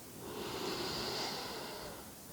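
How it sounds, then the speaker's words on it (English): A slow, deep inhale through the nose during a calm meditation, one soft, airy breath that swells and fades over about two seconds, close and alone. "take a breath in"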